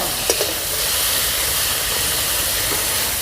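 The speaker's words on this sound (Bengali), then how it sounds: "মাছগুলো দিয়ে দেবো তেল গরম হয়ে গেছে" Fish and prawns fry in hot oil for a village-style shapla prawn dish, giving a loud, steady, close sizzling hiss with a couple of brief pops near the start.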